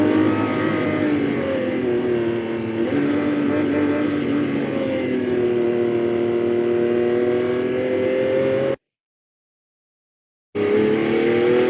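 A simulated car engine generated by a telemetry-driven model plays steadily at close range, its harmonic drone shifting in pitch as the revs change, then cuts out briefly and resumes near the end.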